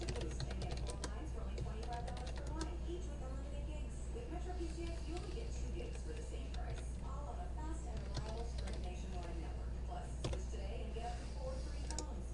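Computer keyboard keys are typed in quick irregular bursts of soft clicks over a steady low hum, at close range, with a voice speaking faintly at times.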